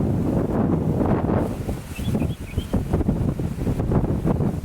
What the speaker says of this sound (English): You enjoying the windy picnic, Eden? It's very windy.